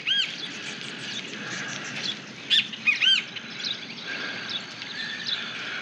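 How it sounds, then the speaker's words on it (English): Birds near a river give several sharp, high chirps and squawks, a few clustered bursts standing out over a faint steady background hiss. "There's some birds though."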